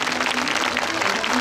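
A crowd at a Super Formula pole-position driver talk show at Suzuka claps in a short, dense burst. A voice speaks over the clapping.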